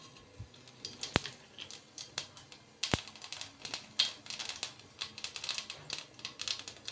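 Nigella seeds sizzle in hot cooking oil at the start of a vegetarian ridge gourd dish, with sparse sharp pops and crackles over a quiet, faint frying hiss.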